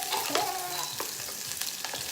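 Onions being lightly sautéed in a pan, a steady soft sizzle with scraping stirs and clinks of a utensil, close up and fairly quiet, no talking.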